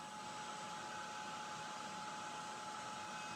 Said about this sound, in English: I'm trying to speed up the process right now by doing it with a heat dryer.